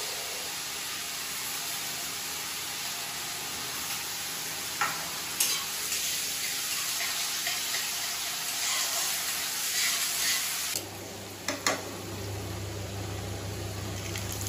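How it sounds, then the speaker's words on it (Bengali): Onions tossed into hot oil sizzle steadily in a home kitchen, a soft even frying hiss with a few clinks, then a louder low hum joins near the end. "আর এবার আমি তেলটা গরম হয়ে গেছে, দিয়ে দিচ্ছি পেঁয়াজ।"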